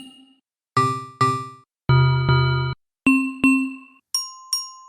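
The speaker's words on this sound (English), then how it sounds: "So just a bunch of different bell kind of sounds" Mallet bell presets on a Maschine ring out as clear, bright struck tones in pairs, each pair higher than the last, every note decaying cleanly with silent gaps between.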